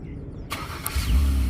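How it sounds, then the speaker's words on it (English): Acura car engine firing up by remote start, a sudden crank and catch followed by a low, steady idle rumble close by. "Car remote starts."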